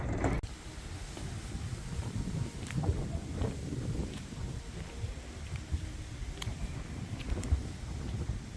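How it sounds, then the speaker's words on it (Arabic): A glass-bottom boat rides on the sea at Aqaba, giving a steady low rumble of engine and water with wind buffeting the microphone and faint mechanical clicks throughout, and no one speaking. "هنا ركبنا القارب في عقبة، قارب شفاف لكي نرى المرجان."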